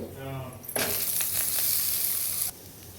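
Dried red chillies and ginger hit hot oil in a pan with a sudden loud sizzle that starts after a brief voice, stays steady for about two seconds with a few light clinks, then cuts down sharply.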